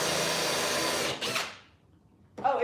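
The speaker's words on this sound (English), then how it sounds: "So I've got to drill new holes in here." A power drill with a countersink bit bores new holes in a wooden desk, running steadily and loud for about a second before spinning down, with a short burst of drilling at the end.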